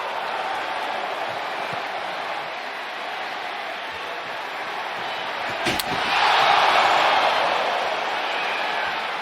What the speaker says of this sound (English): Man, the crowd's into it.